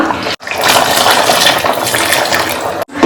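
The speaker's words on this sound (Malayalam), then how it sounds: "ഈ ഒരു സമയത്ത് ജാറിലേക്ക് കുറച്ച് വെള്ളം ഒഴിച്ചിട്ട് നമുക്ക് എത്ര ലൂസ് വേണം അത്രയും ലൂസാക്കി എടുക്കാം" Water pours steadily into a mixer jar while roasted coconut chicken curry is being prepared, a continuous splashing rush with brief breaks near the start and end.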